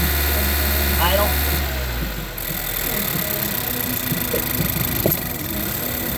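Honda 1.5 turbo GDI engine idling in a workshop, a steady low hum close by with a brief drop partway through, while people talk over it.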